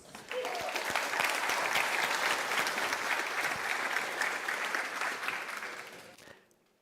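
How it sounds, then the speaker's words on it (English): An audience at a security conference applauds a speaker coming on stage, a dense, loud burst of clapping that holds steady for about six seconds before fading out quickly into silence. "So round of applause for Lukas."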